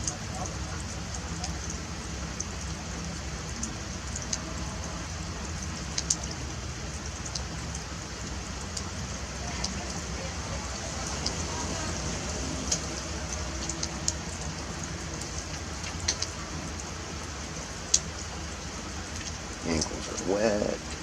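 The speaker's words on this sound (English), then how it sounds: "Also wish it would have stopped raining." Steady outdoor rain patters continuously for the whole stretch, a dense hiss with occasional louder drips close by, with no voices over it.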